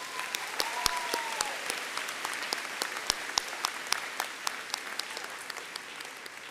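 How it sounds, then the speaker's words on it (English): A crowd at a college graduation ceremony applauds a row of graduates with dense, continuous clapping that fills the hall, and a brief cheer rises above the clapping early on. "Let's have a round of applause for that row of graduates."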